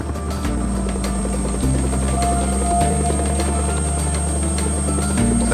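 A rescue helicopter lands at a hospital, its rotor and turbine roaring steady and loud throughout, with a constant close thudding drone and no voices.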